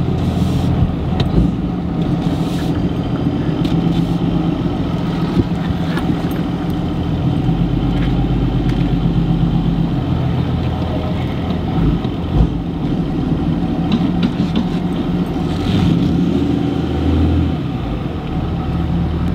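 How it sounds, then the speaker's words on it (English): A Ram truck engine idles steadily with the clutch out, a loud, even low rumble heard up close from inside the cab, running continuously with no talk over it. "And then there's kind of at idle, guys, with the clutch out."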